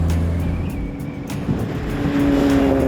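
A handmade car with a Porsche drivetrain from an old 356 drones loudly and steadily up close, its pitch shifting as it revs.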